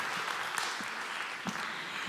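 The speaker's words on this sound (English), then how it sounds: "Big round of applause." Steady applause from an audience at a motivational talk, a dense, continuous patter of clapping that holds at an even level with a few sharper claps poking through, and no voices over it.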